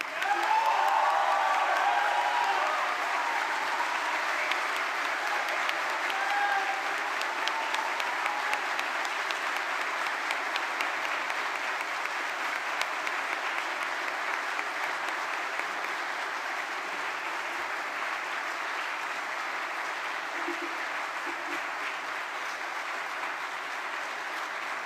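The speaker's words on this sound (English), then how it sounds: "Let them hear your heartfelt thanks with the biggest round of applause you've ever given." Sustained applause from a graduation ceremony audience filling a large hall, loud at first and easing slightly but continuing steadily throughout, with no talking over it.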